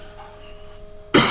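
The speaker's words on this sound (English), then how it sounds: "I'm sorry I'm coughing so much today." Near the end a person lets out a single sudden loud cough close by, breaking into an otherwise quiet stretch with a faint steady hum.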